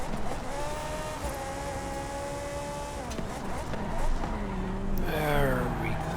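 A race car in Forza Horizon drifts through a corner, its engine holding a loud, steady rev before dropping and climbing again, with tire squeal rising near the end; no one speaks.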